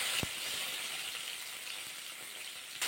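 Hot oil crackles and sizzles as strained water from ground white and black mustard seeds is poured in, a steady broad hiss with one sharp tap near the start, no voices.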